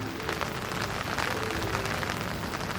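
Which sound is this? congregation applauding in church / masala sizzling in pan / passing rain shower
passing rain shower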